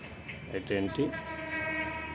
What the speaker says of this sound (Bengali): এখানে এসে ট্রেনটি অবস্থান করলো। এখন ট্রেনটি এখানে থামবে।